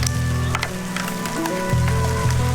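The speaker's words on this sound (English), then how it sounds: "The heavens have well and truly opened again." Heavy rain pouring down steadily and loudly, a dense continuous hiss over a low rumbling drone, likely from a motorbike ride through wet weather.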